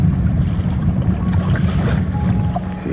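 Choppy water slaps and splashes against a kayak rounding a beach corner off Blake Island, Washington, as the wind picks up, a close, uneven wash of small wave hits with wind noise.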